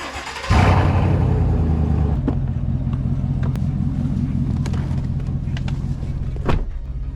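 An old GMC Sierra pickup with a V8 starts up and settles into a steady low engine rumble heard from inside the cab, with a few small clicks and knocks over the drone.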